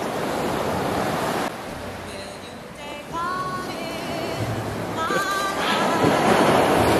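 Sea waves break along a misty, grassy Irish coast near a ruin. The broad surf roar mixes with wind, and a few bird chirps rise above it.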